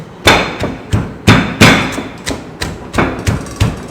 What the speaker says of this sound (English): Cleaned pestle, and we start pounding.